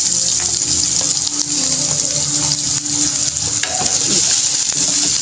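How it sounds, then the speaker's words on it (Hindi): Onions sizzle and crackle in a small amount of hot oil, a loud, close, steady hiss with occasional stirring pops, no voices. "तो इस टाइम इसमें मैं ये प्याज ऐड कर दूंगी।"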